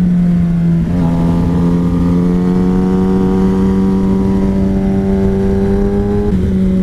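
A Kawasaki ZX10R motorcycle engine drones loud and close from onboard, its pitch climbing steadily as it pulls through the gears, with brief dips at the shifts and constant wind rush underneath.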